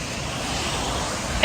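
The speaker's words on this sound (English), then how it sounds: "So that's all full of water, and it is flowing." Rainwater from a recent downpour runs along a flooded curbside street channel in Santo Domingo, a steady, close, hissing wash that holds an even level throughout and ends with a brief small click.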